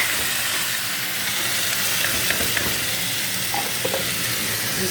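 Onions and vegetables fry in a hot pan while being stirred, a steady close sizzle and hiss with faint scraping clicks of the spoon and no voices.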